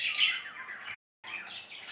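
Budgerigar chirping in dense, bright bursts of twittering, close and fairly loud, broken by a short silent gap before the chatter resumes.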